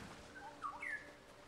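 A bird chirps in Ghost of Tsushima, a few quick, high, faint tweets over a soft background hiss.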